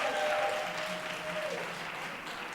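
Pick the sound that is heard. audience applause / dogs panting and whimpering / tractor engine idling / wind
audience applause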